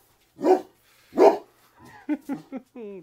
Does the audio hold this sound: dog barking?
yes